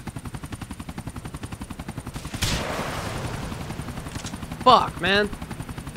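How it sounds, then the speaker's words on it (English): Police helicopter rotor chopping steadily overhead in Grand Theft Auto IV, a fast rhythmic thudding that runs throughout beside a boat chase, with a burst of noise midway and a man swearing near the end. "The chopper needs to stay still for a second so I can hit it."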